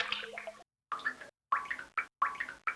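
Water drips and plops in the hold of a ship in The Secret of Monkey Island, four or five separate bubbly drops spaced by short silences, close and clear.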